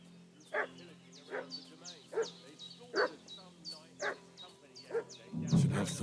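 A dog in the Kingdom Come Deliverance 2 video game barks and fusses at a steady pace, about one sharp yelp every second at moderate distance, ending with a low thump.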